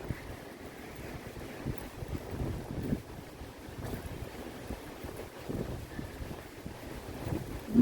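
Steady wind rushes and buffets across the microphone outdoors, a low continuous roar with gusts rising and falling throughout, no voices.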